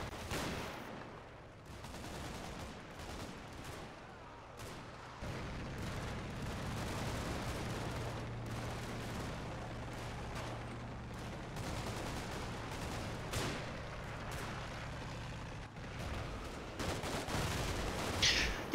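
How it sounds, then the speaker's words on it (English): A long harassing artillery barrage rumbles in the WWII strategy game Combat Mission Fire & Rubble, with dense continuous booms and crackling gunfire that build louder toward the end. "I've set up a really long harassing artillery barrage to the rear side of the map"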